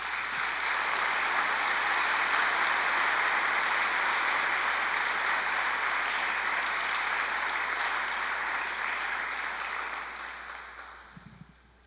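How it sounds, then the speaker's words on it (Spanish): A church congregation claps together during a sermon, a loud, dense, sustained burst of applause that holds steady for about ten seconds before fading out. "Le damos un aplauso al Señor por eso."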